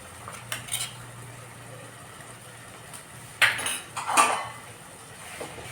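A metal utensil scrapes and clinks against a pot while stirring in gram flour, with a couple of louder stirring scrapes near the end and quiet background hum.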